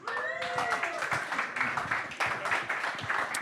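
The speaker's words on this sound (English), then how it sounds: "Round of applause for AY." Audience applauding for AY Young at Hedera Haus in Davos, a short burst of dense clapping with a brief whistle at the start, fairly close and lively.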